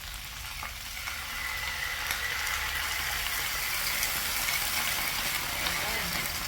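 Vegetables fry in a pan with a splash of water, giving a constant close sizzle and crackle with faint stirring clicks.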